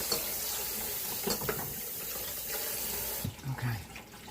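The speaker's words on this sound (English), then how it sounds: "Let me rinse my finger off here." Tap water runs steadily into a kitchen sink as a finger is rinsed after mixing banana cake batter, a continuous broadband splash close by, ending with a brief clatter.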